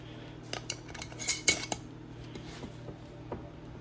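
A metal lid and screw ring go onto a hot jar of homemade maple syrup, with faint scattered metallic clinks and scrapes over a low steady hum, sharpest in the middle.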